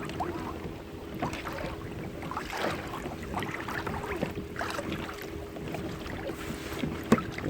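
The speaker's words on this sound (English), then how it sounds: "here come the waves" Small waves lap and slap steadily against a Hobie kayak on windy Cedar Lake, Minnesota, a continuous near splashing texture with wind noise and a sharper knock near the end.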